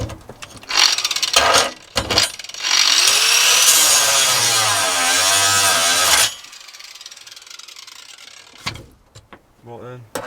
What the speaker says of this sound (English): I'm going to cut it off with the angle grinder and get it out